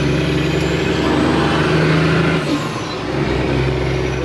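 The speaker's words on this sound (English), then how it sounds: "The sputtering is still there, but I can definitely notice the truck running better." A heavy truck engine idles and runs close by with a steady rough drone, the sputter coming through as uneven dips partway through, alone with no talk.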